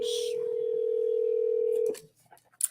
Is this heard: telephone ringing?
yes